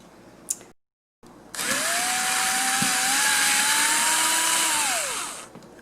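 A small cordless screwdriver backs screws out of a household fan, giving a steady motor whine that rises and falls slightly over about four seconds, close and fairly loud, after a short clack and a brief silent gap.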